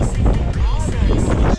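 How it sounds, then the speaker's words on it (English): Strong wind buffeting a microphone out on a trail, a loud continuous rumbling roar with gusty surges throughout, a voice briefly audible beneath it. "The wind is so strong."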